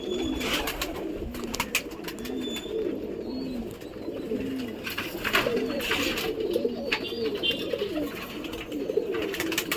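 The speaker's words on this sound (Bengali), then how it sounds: "এই পায়রাটাকে শখ করাচ্ছি আপনাকে এটা ফুলসিরা পায়রা আমার" A fulsira pigeon, a champion bird kept by a pigeon fancier, gives soft repeated coos in a steady rhythm. The coos sound close by but fairly quiet, with a few faint chirps and clicks in the background.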